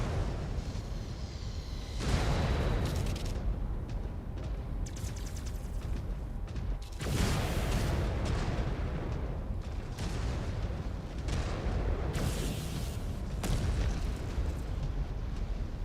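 Missiles strike a mech in the Mechwarrior 5: Clans battle game, a dense barrage of loud, booming explosions rolling almost continuously with sharper bursts around every few seconds, no talk.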